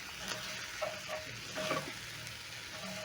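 Meat and spices sizzle quietly in a frying pan while a crushed seasoning cube is stirred in, with a steady hiss and a few soft scraping strokes close by.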